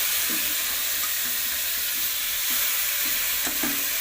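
Potatoes going into a hot kadai for frying, giving a soft, steady sizzle with light stirring clatter, close and unaccompanied by talk.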